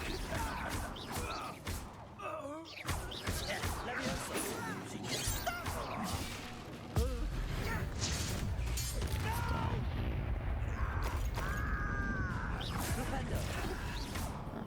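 In the video game Hogwarts Legacy, the Flipendo spell is cast amid a busy battle mix of whooshes, impacts and crashes, with game sounds layered throughout.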